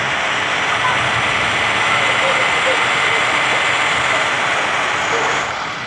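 A truck engine strains and labours under heavy load, a steady loud broadband roar that holds throughout with no break, with speech faintly present beneath it.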